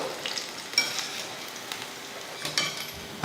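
Small pakoda batter drops frying in hot oil, a soft continuous sizzle with faint scattered crackles and a few light utensil taps, close and unaccompanied by talk.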